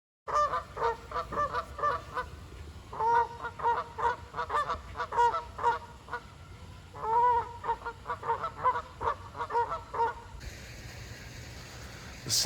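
Canada-style geese honking at a pond in spring, repeated bursts of loud nasal honks in rhythmic clusters, fairly close, with quiet gaps between calls and no talking.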